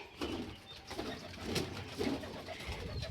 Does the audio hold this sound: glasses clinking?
no